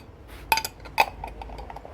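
A glass jar has its lid screwed down tightly, giving two sharp glassy clinks about half a second apart, followed by faint scraping and rattling at close range with no talk.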